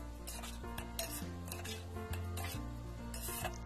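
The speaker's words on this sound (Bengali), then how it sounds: "চালটাকে আমি ভালোভাবে এবারে ভেজে নেব।" Rice is stirred and fried in a pot with large and small cardamom for chicken yakhni pulao, giving steady scraping and rubbing of the spoon against metal with a soft sizzle underneath, close and continuous.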